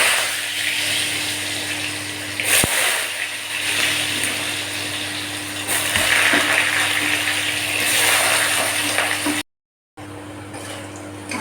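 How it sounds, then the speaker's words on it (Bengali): Potatoes frying in hot oil, a steady, loud broadband sizzle that runs throughout, with a brief sharp knock partway and a short dropout near the end. "তেল গরম হয়েছে, এবার আমি আলুটি ভাজা তুলে নেব।"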